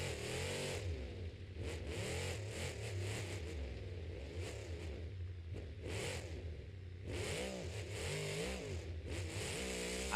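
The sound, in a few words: monster truck engine revving during Monster Jam skills challenge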